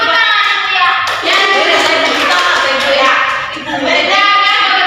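A group of children clap their hands together in a lively burst, with young voices mixed in close by.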